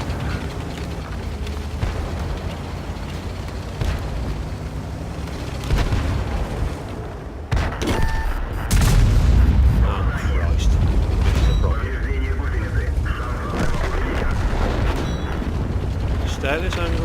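Heavy cannon blasts and booming impacts in World of Tanks around a KV-2 heavy tank under fire from premium rounds, with a big low thump midway over constant engine rumble and a voice talking throughout.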